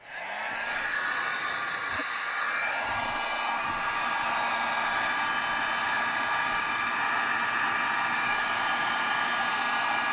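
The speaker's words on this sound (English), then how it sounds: "heat up the shrink tube" A heat gun blows hot air onto shrink tubing over wiring during a headrest DVD player install in a 2020 Ford F-150 Lariat, a loud, steady close-up whoosh that holds constant from start to finish.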